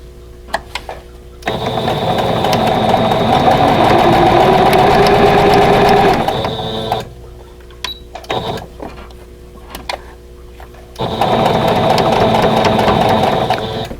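A sewing machine stitching a vintage Snail's Trail quilt block runs in two sustained bursts of steady mechanical whirring, separated by a stretch of quieter handling clicks and taps, with no talking.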